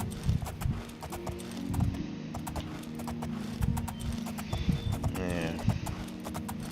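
Horse hooves clip-clopping in the video game The Elder Scrolls IV: Oblivion, a steady rhythmic trot of sharp hoof strikes close by, with a whinny-like swell near the end and no talk.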